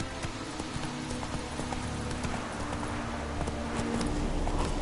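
Horse hooves clip-clopping at a steady walking rhythm in The Witcher 3, the hoofbeats close and continuous over a dense layer of ambient game sound, with no voices.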